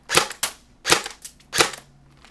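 A Tokyo Marui AK47 Beta Spetsnaz airsoft gun fires four sharp, close cracks in an uneven sequence, each snapping loudly with a brief trailing rattle.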